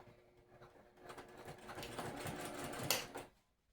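A sewing machine runs a top stitch along a fabric edge beside a zipper and lining, a fast whirring rattle that builds, then stops abruptly near the end.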